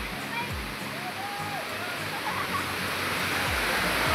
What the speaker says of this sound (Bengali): কত সুন্দর দেখতে আছে ঝর্ণা